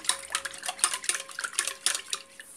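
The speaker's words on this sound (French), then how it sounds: "Je mélange très bien" A utensil stirs milk, olive oil and honey in a bowl, clinking and scraping against the sides in a quick, steady rhythm of close, light metallic taps.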